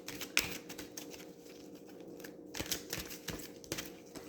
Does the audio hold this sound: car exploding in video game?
no